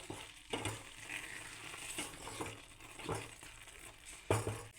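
A spoon scrapes and stirs through thick carrot halwa in a pan after cardamom powder is added, with a soft sizzle and several distinct scraping strokes at close range.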